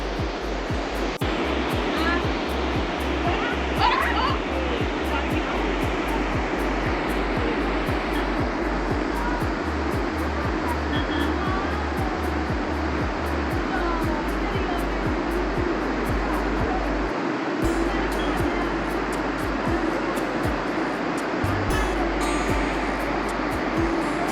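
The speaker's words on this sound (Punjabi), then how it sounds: "ਪਾਣੀ ਦਾ ਖੜਕਾ ਦੜਕਾ ਪੂਰਾ ਇੱਥੇ" River water rushing past the bank at Kasol Nature Park on a morning walk, a constant loud roar close by with a low rumble underneath, no voices over it.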